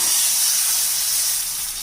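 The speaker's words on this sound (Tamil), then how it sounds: "கொஞ்சமாக கடலெண்ணெய் விட்டு கடுகு சீரகம் காஞ்ச மிளகாய் கருவேப்பிலை பெருங்காயம் எல்லாமே தாளிச்சிட்டேங்க" Mustard seeds, cumin, dried chillies, curry leaves and asafoetida sizzle in a little hot groundnut oil, tempering for a tiffin sambar; a loud, steady, bright hiss fills the whole moment with no talking.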